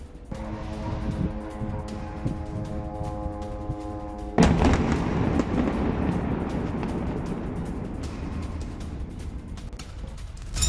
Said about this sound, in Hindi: अगली तस्वीर गाजा में ही रिहायशी इलाके पर आईडीएफ के हमले की, जहां मिसाइल हमलों से गाजा दहल गया